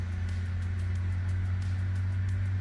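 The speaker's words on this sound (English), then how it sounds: "Listen to those engines grunt." Simulated CRJ jet engines idle from the BOREE audio sound pack, a steady low drone with a constant hum and faint airy whine, continuous and even with no talking.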